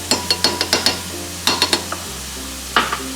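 A utensil stirs garlic into melted butter in a pan on a Weber One Touch kettle grill. It makes a series of quick metallic clinks and scrapes in short bursts over a soft sizzle, close up.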